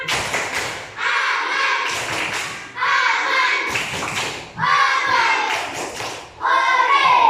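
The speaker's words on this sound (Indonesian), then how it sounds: "Tepuk tangan." A class of students claps in steady rhythmic bursts, loud and close, each burst lasting about a second with brief pauses between them.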